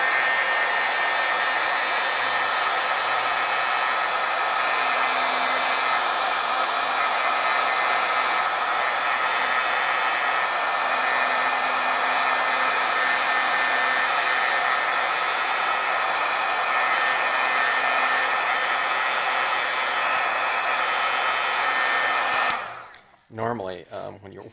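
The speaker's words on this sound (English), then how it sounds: "so we're going to have to heat set it." A heat tool blows steadily and loudly while heat-setting wet stamped ink on aqua foil, a constant broadband whoosh that runs unbroken for over twenty seconds before cutting off abruptly near the end.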